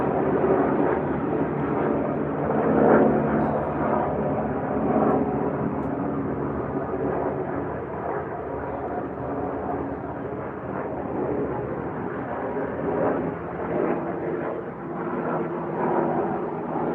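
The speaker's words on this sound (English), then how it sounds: "I'm looking at helicopters fly over." A low, steady engine drone of helicopters passing overhead persists throughout, fairly distant and muffled, with no talking.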